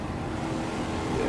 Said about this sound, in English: Listen to the sound of that V8.